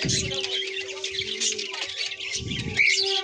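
Madrasi highflyer pigeons call continuously nearby, with busy chirps and squawks, a few low muffled thumps and a steady background hum.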